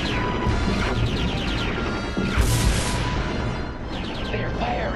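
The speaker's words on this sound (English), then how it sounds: "They're firing on us." Decepticon weapons blasting in a Transformers cartoon, a dense barrage of laser zaps, crashes and impacts layered over each other, loud and continuous, with a sharp burst midway through.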